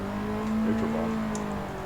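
An engine revs up and drops back in a quick neutral bomb during night touge drifting in Assetto Corsa, a short, steady, mid-level revving burst with a faint tire squeal near the end.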